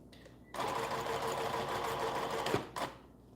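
A sewing machine runs zigzag stitches in one steady, close whirring burst of about two seconds, followed by a brief second run, with no talking.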